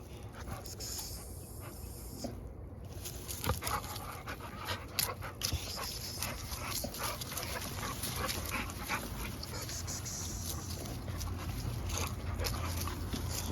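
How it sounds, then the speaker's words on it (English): American Bully dogs, including a merle, whimper and pant steadily at close range, with brief yips and faint background noise throughout. "You see what kind of dogs we got over here."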